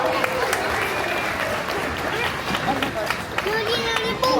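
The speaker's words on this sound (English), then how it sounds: "how about a round of applause for our volunteer" A crowd at Disney's Animal Kingdom claps and cheers in steady applause for a volunteer, with overlapping voices and hubbub throughout.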